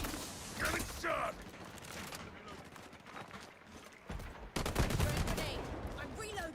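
Video game gunfire comes in sharp bursts and scattered shots, with a loud heavy volley near the end, mixed with mechanical clicks and people talking over the action.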